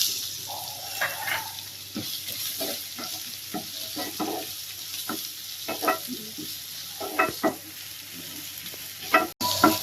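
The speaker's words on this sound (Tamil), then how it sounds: "வெங்காயம் நல்லா வதங்கிட்டு இருக்கு" Onions frying in hot oil with fennel seeds and curry leaves, a soft steady sizzle broken by repeated scraping and clinking of a spoon stirring in the pan, close by.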